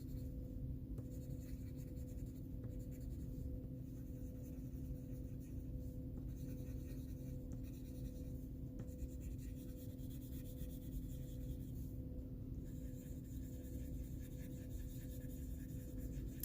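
A colored pencil shades on paper in steady, continuous scratchy strokes, close and even, rising and falling softly with each pass over a constant low background hum.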